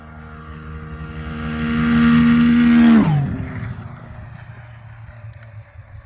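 A car nicknamed Yo Mama screams past on a half-throttle test run, its high engine whine building loudly, then dropping sharply in pitch as it passes and fading into a low, distant rumble.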